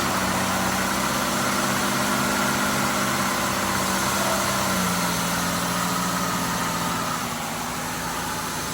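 A 2008 Ford Escape V6, suspected of burning oil, settles into a steady idle, a continuous close engine drone whose pitch drops slightly partway through, with no talking over it.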